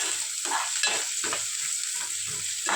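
Onions frying in a pan alongside tomato, a continuous sizzle broken by repeated scraping stirs every half second or so, close and fairly loud.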